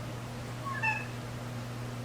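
A house cat gives a short, faint meow in a kitchen, a single rising-falling call near the middle, heard over a steady appliance hum.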